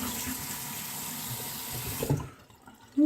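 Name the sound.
water running from tap while rinsing after a shave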